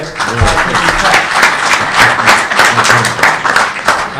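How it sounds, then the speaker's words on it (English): A round of applause from an audience at a Kashmir Solidarity Day gathering, steady and fairly loud clapping throughout, with some voices mixed in. "perhaps with a round of applause you could say thank you to everyone who's here."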